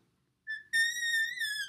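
A voice imitates a whistle-like wheeze of the kind heard in acute asthma: a short pure tone, then a sustained, slightly wavering high whistle, close and clear against silence.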